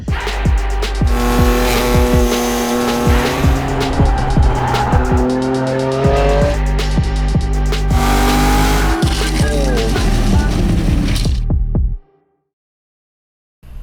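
A race car roars around the Ridge Motorsports Park track in Washington, its engine loud and close, climbing and dropping through gear changes with tire squeal, before the sound cuts out abruptly near the end.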